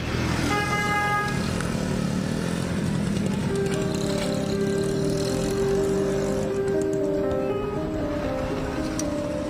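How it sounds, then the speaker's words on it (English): A motorcycle travelling across the border in the Dominican Republic gives a steady, loud engine drone with sustained tonal hum throughout and occasional horn-like toots over the road noise. "Travel to across the border on a motorcycle."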